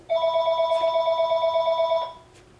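A telephone rings with a steady electronic trilling bell tone, loud and close, sounding continuously for about two seconds before cutting off into a quiet room.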